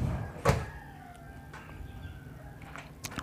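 A sliding glass door on a lightweight steel hollow-frame wardrobe gives one sharp rolling knock near the start, followed by softer scraping and faint clicks as the panel moves along its track.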